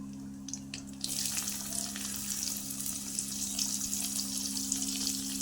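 Mustard oil with whole cumin and dried chillies sizzles in a wok as chopped onions go in, a close, steady frying hiss that starts suddenly after a quieter moment over a faint low hum.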